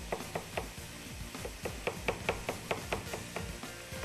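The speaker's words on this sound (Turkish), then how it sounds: "3 adet patatesimizi de şöyle minik minik doğrayalım" Three potatoes being diced into small pieces with a knife on a cutting board for pumpkin soup, a steady run of close, crisp chopping taps, some quick and clustered, over low kitchen background.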